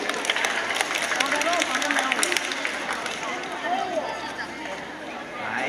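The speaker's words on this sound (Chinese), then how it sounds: "掌声鼓励" A school audience applauding a fifth-grade class's English song performance at a Mother's Day event, with a dense patter of many hands clapping mixed with children's chatter and some shouting.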